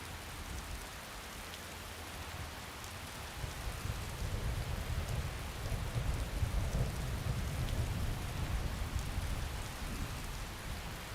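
Steady rain pours in a Skyrim game world, a dense even hiss with low thunder rumbling underneath that swells louder partway through, with no voices.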